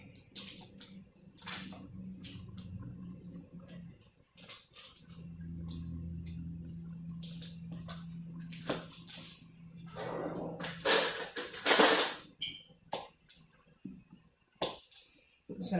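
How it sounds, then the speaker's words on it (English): A frozen pastry cutter working two sticks of frozen butter into flour in a bowl for buttermilk biscuits, making irregular sharp clicks and scrapes in bursts, with a person talking in between. "I'm just going to cut up the butter so it cuts up a little bit better."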